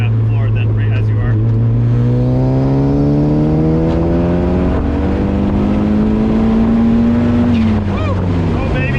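A turbocharged Mazda Miata pulls hard through third gear, loud and close, its engine note climbing steadily in pitch over several seconds before the revs drop off near the end, with a brief voice underneath.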